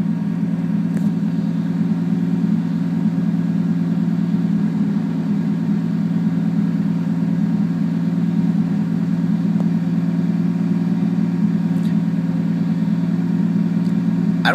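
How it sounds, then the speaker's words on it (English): A turbocharged RB30 engine in a Datsun Z idles smoothly and steadily, a low constant hum with no revving, close by and alone. "listen to how rock solid that idle is."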